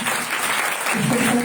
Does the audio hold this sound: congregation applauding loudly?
yes